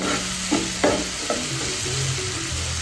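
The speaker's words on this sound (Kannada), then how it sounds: "ಗೋಲ್ಡನ್ ಕಲರ್ ಬರೋ ತನಕ ಫ್ರೈ ಮಾಡ್ತೀನಿ. ಗೋಲ್ಡನ್ ಕಲರ್ ಬರಲಿ ಈರುಳ್ಳಿ." Onions sizzle in a pan of hot oil while a spoon stirs and scrapes them now and then, a loud, close crackle with a few sharp knocks early on.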